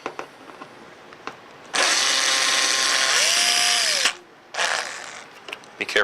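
A power screwdriver whirs loudly as it backs out the four front screws holding a VacFill3 control panel, one long steady burst that dips in pitch near the end, then a second shorter burst after a brief pause, with small clicks between.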